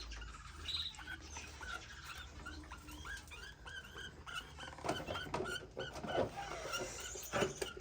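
Small baby finches chirp and squeak in quick, overlapping bursts close by, with faint rustling and shuffling underneath.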